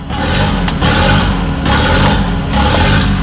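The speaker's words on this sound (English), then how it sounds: "So I've just arrived and instantly all of these turbo noises" Loud, continuous car engines revving, with a high turbo whistle rising and fading over the rumble.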